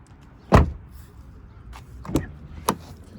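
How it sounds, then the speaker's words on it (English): The driver's side door of a 2019 Chevrolet Silverado pickup thunks shut sharply, then two softer latch clicks and bumps follow a moment apart, close by with no talking. "Driver's side door."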